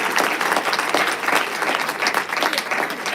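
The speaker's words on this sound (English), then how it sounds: "Let's give a round of applause for our" An audience at an evening author event claps steadily throughout, a dense, even round of applause from many hands in a room with no voices standing out.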